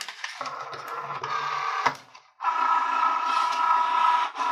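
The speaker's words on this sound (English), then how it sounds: "Your machine is measuring how much vinyl you've inserted to make sure that it's compatible with the project that you're making" A Cricut Joy cutting machine measures a sheet of loaded vinyl with a steady mechanical whir, pausing briefly before a louder stretch of running motor noise resumes.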